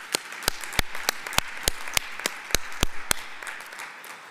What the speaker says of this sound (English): please let us give the Honorable MEC another round of applause